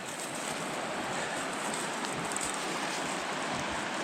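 A mountain river in the Carpathian forest flows with a dense, constant rush of water, close and fairly loud, with no voices over it.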